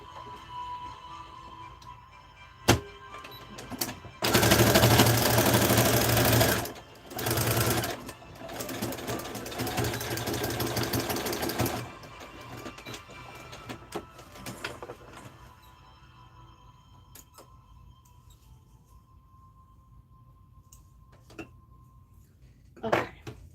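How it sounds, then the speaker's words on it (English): A sewing machine runs a straight stitch through denim for an upcycled jeans pinafore, first in a loud, fast burst, then in shorter runs that fade into quieter handling noises and occasional clicks. "let's go down to number 1 for our straight stitch"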